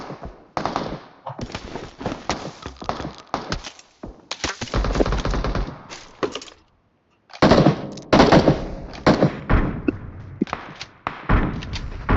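Gunfire in the mobile battle royale game PUBG Mobile: close, loud bursts of automatic and single shots in irregular clusters, separated by brief silent gaps.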